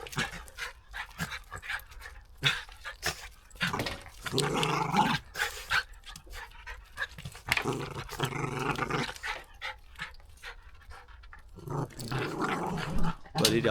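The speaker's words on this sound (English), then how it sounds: "Bloody dogs there" Dogs growl, pant and bark at an allotment in mid-November, the rough snarls coming in uneven bursts close by with no talk over them.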